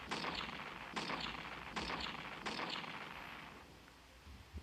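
Clock tower door swinging open in Majora's Mask at midnight, after fireworks go off: four loud, booming low impacts about a second apart, each ringing out briefly, then a softer fading tail.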